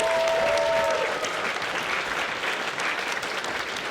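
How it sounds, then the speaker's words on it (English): Audience applauding the AV crew at BronyCon 2013, a dense, steady wash of clapping from a large crowd that holds throughout, with a brief whistle near the start. "can we get another round of applause for the AV crew for saving the day?"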